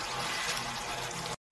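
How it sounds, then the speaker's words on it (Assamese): Water poured from a bowl into lentils (dal) in a pot, a steady broadband rushing pour that runs continuously, then cuts off abruptly near the end. "মই দালিত পানী দিলোঁ 1 বাটি, 2 বাটি, 3 বাটি পানী দিলোঁ"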